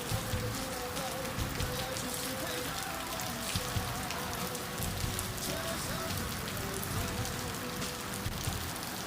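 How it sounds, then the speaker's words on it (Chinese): Steady autumn rain falling and pattering on surfaces, a continuous close hiss with scattered drips throughout. "这一段时间是一直下雨啊"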